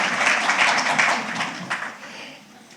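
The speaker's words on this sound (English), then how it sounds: "please also a round of applause for our translators and our participants who are here" Applause from a festival audience on the opening day of a Somali cultural week, a soft wash of clapping hands that fades out toward the end, heard from some distance.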